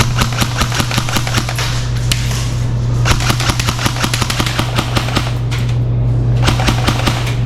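An airsoft UMP fitted with a threaded barrel and tracer unit fires long rapid bursts of sharp clacking shots during an indoor lights-off game, loud and close over a steady low hum.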